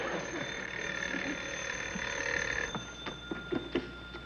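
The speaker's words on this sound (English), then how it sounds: "Answer the phone." A telephone bell rings steadily and fairly close in an old-time radio comedy set in a star's residence, its tone sustained over a low hum, with a few sharp knocks near the end.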